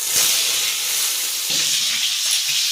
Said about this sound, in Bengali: আমি সব ভেজে রাখা সবজিগুলো দিয়ে দেব।